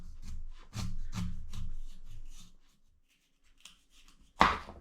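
A knife cuts the thick bottom off a kohlrabi with a series of close, rhythmic rasping scrapes, then a pause and a single sharp chop near the end.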